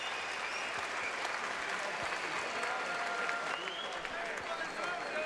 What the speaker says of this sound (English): we give them a tremendous round of applause